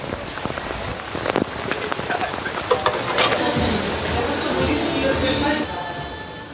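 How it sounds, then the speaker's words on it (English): Continuous heavy rainfall battering parts of China, a dense steady hiss of rain with scattered splashes and drips, fairly close throughout. "Huge parts of China have been battered by continuous heavy rainfall over the past few days."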